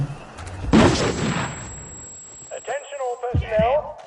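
One heavy bombing explosion booms up close in We Happy Few and rumbles away, followed by a shouting voice.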